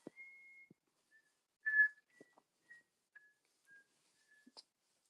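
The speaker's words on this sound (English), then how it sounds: "please stop whistling" A faint, steady whistle holds a single pitch, followed by a few short, scattered whistled notes and soft clicks in an otherwise quiet room.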